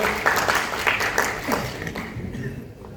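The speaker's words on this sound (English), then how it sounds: "Big round of applause for all of our alumni here." Audience applause for alumni panelists from INSEAD and MIT at an MBA and master's tour event in a Delhi hotel, a moderate wash of clapping that thins out over three seconds with some talk mixed in.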